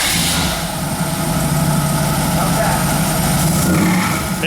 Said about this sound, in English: Let's see if I can start it up.